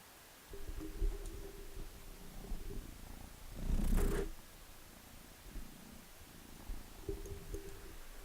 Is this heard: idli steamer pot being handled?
no